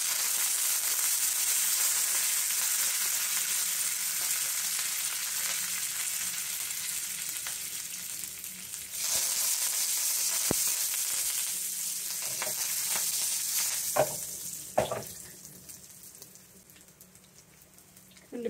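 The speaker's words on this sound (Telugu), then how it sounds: "అది ఇందులో వేయించుకోవాలి." Garlic and curry leaves frying in a pan for a raw turmeric curry give a steady, close crackling sizzle, with a few sharper pops and stirring knocks near the end.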